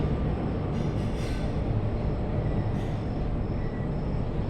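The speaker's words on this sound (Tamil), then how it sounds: "பக்கத்தில் ட்ரெயின் போயிட்டு இருக்கு" A train rumbles past nearby, a steady low roar of rolling wheels with faint squealing hisses rising now and then.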